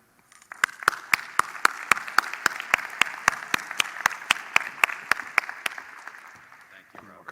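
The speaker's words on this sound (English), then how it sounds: "Please, the last applause of the event to Joe Weinman." Audience applause fills a conference hall at the close of a management institute event in Lausanne, Switzerland, with sharp claps standing out over a steady, fairly loud wash of clapping.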